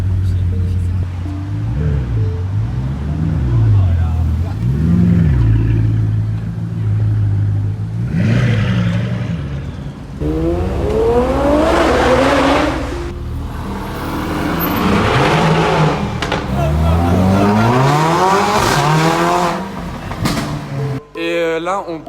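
A Mercedes A45 AMG revs hard and pulls away, its engine pitch rising and falling through several loud sweeps up close. People talk over it.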